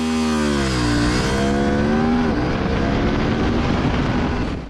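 A CFMoto 800MT-X 870 high-seat adventure motorcycle accelerating hard from standstill to 100 km/h, the engine note rising loud and close, a gear shift dropping the pitch, then climbing again with a strong sustained roar.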